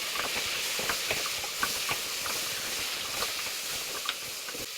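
Food frying in a pan, a steady close sizzle and hiss with small crackles and occasional stirring taps, continuous and even with no speech.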